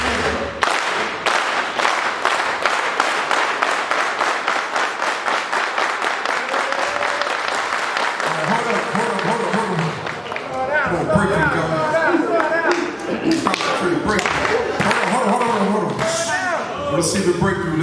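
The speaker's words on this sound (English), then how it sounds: "Now I need that one clap." An audience claps in steady rhythmic unison at a motivational speaking event, then breaks into louder scattered applause mixed with crowd chatter and shouting.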